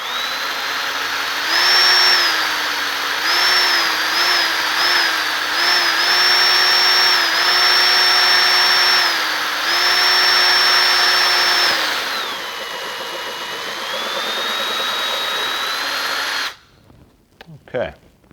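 A cordless power drill bores through a motorcycle windscreen, whining loud and close in sustained bursts with brief speed dips, then slows to a lower hum and stops abruptly, followed by a few faint clicks.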